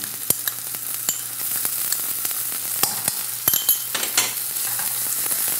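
Ginger and garlic paste fry in a pan with a loud, continuous sizzle, broken by occasional scrapes and taps of a stirring utensil, close and without speech.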